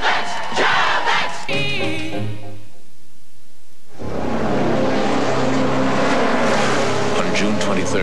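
Mazda race cars at the Le Mans 24-hour endurance race roar past loudly with a crowd behind them, after a short stretch of music and voice.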